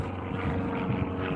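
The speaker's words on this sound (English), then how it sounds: "there's plane number 6 up in the sky" Propeller airplane flying overhead in the sky, heard as a steady, broad low drone that holds at a moderate distance through the whole moment, with no voices over it.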